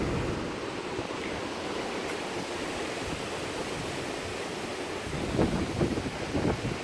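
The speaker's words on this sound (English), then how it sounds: "that wind's really bad right now" Strong wind roars outdoors beside a greenhouse, a dense continuous rush of noise that swells stronger toward the end, with no voices.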